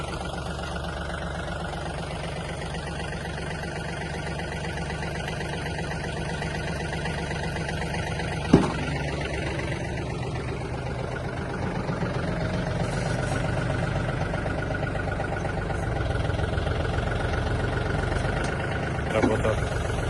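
A Yanmar EF326 mini tractor with cab runs steadily while its rotary tiller turns, a continuous low diesel drone with a sharp clank partway through and another near the end; a voice talks over it.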